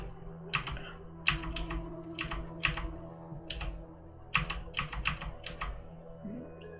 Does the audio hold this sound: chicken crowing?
no